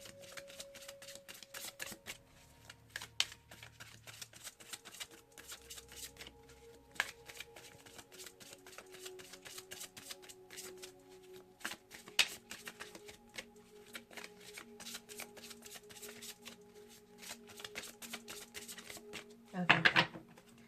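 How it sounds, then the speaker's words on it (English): Oracle cards are shuffled by hand in a quick, close, crisp riffling patter that continues steadily, ending in a louder burst of handling. "So let's get a final Miracles Now Oracle card from Gabrielle Bernstein."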